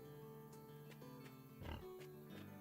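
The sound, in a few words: pigs oinking in Farm Together video game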